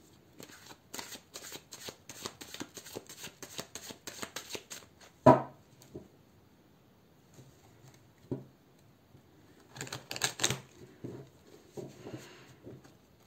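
Tarot cards are shuffled by hand in quick riffling bursts, close and crisp, followed by quieter pauses, a single sharp card slap, and another shuffle later.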